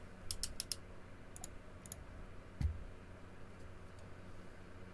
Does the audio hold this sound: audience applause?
no